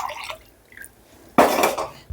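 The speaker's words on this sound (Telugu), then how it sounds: "ఇంకొక 3/4 గ్లాస్ నీళ్ళు పోస్తున్నా." Water tipped from a glass into a pot of tamarind and peanut rasam makes a short splashing gush after a few quiet drips and a faint clink.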